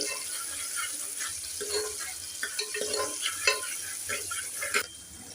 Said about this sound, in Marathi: आता हा कांदा परतूया, चांगला लाल होऊ दे अशा प्रकारे